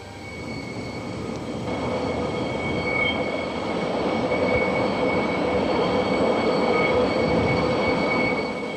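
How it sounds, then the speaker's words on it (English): Steam train wheels squeal in steady high-pitched tones on tight curves over the rumbling roll of railcars, the sustained screech holding loud and continuous throughout. "The squeal of wheels tells how the old curves are too tight for trains of modern size and speed"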